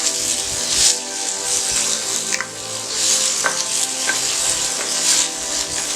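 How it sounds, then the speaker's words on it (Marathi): Onion and tomato frying in a pan for a Maharashtrian thali dish, a loud continuous sizzle with a few soft stirring scrapes, close up and without voices. "कांदा व्यवस्थित परतून घेऊया। कांदा चांगला लाल झाला आहे। टोमॅटो घालूया।"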